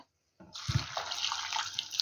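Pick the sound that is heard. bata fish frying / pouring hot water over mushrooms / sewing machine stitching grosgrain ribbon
pouring hot water over mushrooms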